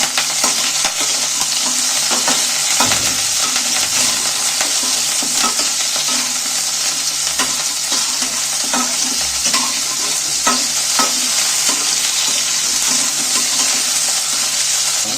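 Chicken pieces frying in hot oil in a pan for chicken momos, a constant bright sizzle with regular scraping stirs and occasional clinks of the utensil against the pan, close and loud, no voices.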